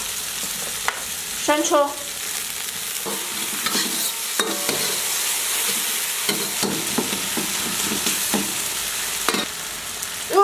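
Meat seasoned with Sichuan pepper powder, star anise powder, ginger powder, thirteen-spice and dark and light soy sauce is stir-fried in a wok. It makes a continuous close sizzle with repeated scraping and clanking strokes, and a voice speaks briefly.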